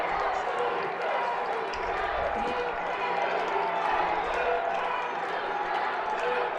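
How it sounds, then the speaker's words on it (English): A stadium crowd at a high school all-star football game in AT&T Stadium keeps up a steady, distant roar with rising chants, running continuously beneath a commentator's voice. "There's the crowd noise a little bit. Crowd's getting into it here."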